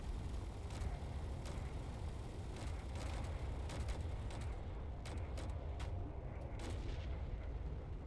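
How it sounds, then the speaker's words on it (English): Heavy artillery barrages in the space-building game Space Engineers: a continuous low rumble of repeated booms with sharp cracking impacts layered on top, loud and sustained from start to finish. "Oh my god, that's a lot of artillery."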